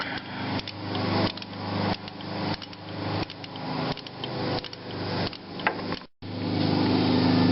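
Metal wrench work tightening an AC pulley bolt on a Corvette, heard as a steady series of close, repeated ratcheting clicks and scraping strokes over a constant background hum, with no talking.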